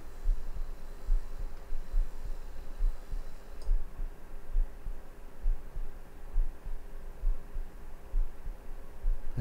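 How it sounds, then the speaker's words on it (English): A heart beats in slow, regular low thumps, about one per second, faint and close under a steady electrical hum with occasional light clicks. "Yeah, that's my heart beating."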